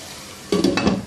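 A spoon scrapes and clatters in a cooking pot of chicken liver masala with green chilies and red chili, several quick metallic stirring knocks following a brief quiet start.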